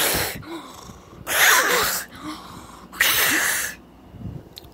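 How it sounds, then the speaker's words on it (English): Loud, raspy snoring in two long drawn-out breaths, each a harsh rattling rush separated by quieter pauses, very close. "Yep, that's how he snores."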